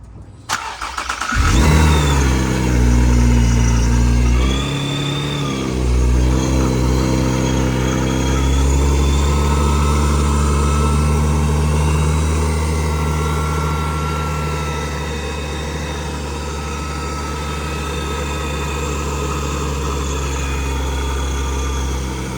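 The engine of an Infiniti or Nissan Z car cranks briefly and fires up, roars loudly for a few seconds, then settles into a steady, close, low-pitched idle that runs on for a long stretch with no one speaking.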